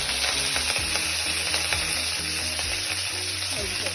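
Curry leaves sizzling and crackling in hot oil, a dense continuous fry with sharp popping bursts, close and loud with no talking.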